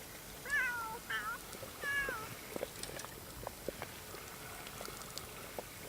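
Several cats meow in The Sims 3, three short rising calls close together near the start, then a softer background of faint clicks and patter with no further meows.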